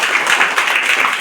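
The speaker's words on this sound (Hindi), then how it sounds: "जोरदार तालियां सारे के सारे" Dense, steady applause from a crowd, sustained without a break for the full moment, loud and close.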